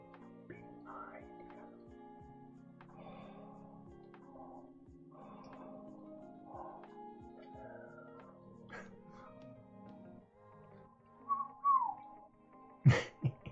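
A person whistles a series of short, scattered notes and phrases, faint and fairly close, with brief louder chirps toward the end and soft background sounds.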